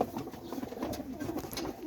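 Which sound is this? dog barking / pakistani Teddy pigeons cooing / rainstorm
pakistani Teddy pigeons cooing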